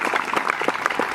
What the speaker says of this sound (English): So if you can give a round of applause for them,